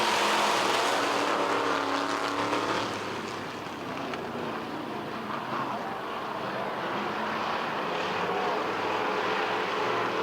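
Midwest modified race cars roar around the dirt oval at Lebanon Midway Speedway as racing goes green, a dense, steady engine drone filling the whole stretch with little variation and no clear speech.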